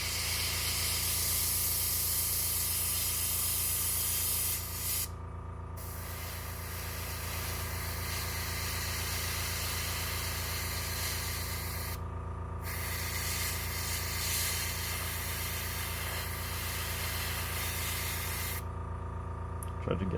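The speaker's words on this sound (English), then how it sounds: "the compressor's gotta work the whole time in the video" An air compressor runs steadily with a low droning hum while an airbrush spray-paints a T'au Pathfinder miniature, its hissing bursts starting and stopping over the motor.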